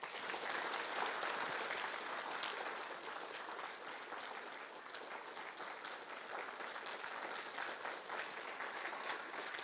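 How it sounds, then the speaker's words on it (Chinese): Audience applause at a large religious ceremony, a Taoist water-and-land dharma assembly, with sustained clapping from many hands that stays fairly even and distant throughout. "鼓掌拍手。"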